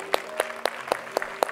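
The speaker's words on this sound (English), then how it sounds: "Give the Lord a hand clap of praise." Slow, rhythmic hand claps in a church congregation, six separate sharp claps spaced evenly in unison, fairly close, with a faint tone beneath.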